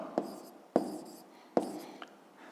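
Pen strokes writing out a fifth-grade math exercise by hand, a few distinct scratchy taps and short scribbles close up and quiet, with no voice.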